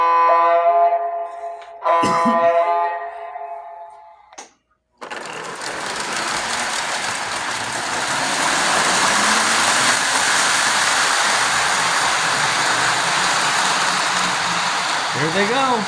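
Lionel model trains running on a collector's track layout: a short harmonic whistle-like tone, then a sudden, steady, loud whirring rumble of the trains that continues for the rest of the clip.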